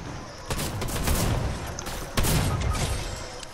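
Rapid gunfire in the Fortnite video game, a dense fusillade of close, loud shots with two sharper bursts standing out, a faint voice underneath.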